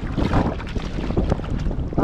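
A fishing boat's engine runs on open water, a dense close rumbling drone with wind buffeting the microphone across the whole short stretch.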